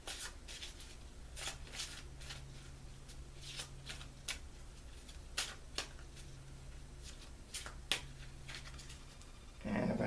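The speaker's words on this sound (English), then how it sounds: "I'm going to shuffle the cards." Steady riffling and snapping of tarot cards being shuffled close up for several seconds, with crisp repeated flicks and no talking.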